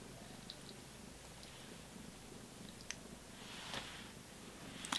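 A house cat purrs softly and steadily in a quiet room, faint and low, with a few small clicks and rustles near the end.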